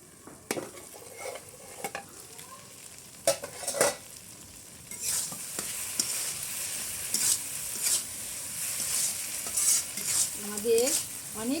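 Rohu fish frying with garlic in a pan, stirred with a utensil: steady close sizzling under repeated scraping and clinking strokes against the pan, with no talking.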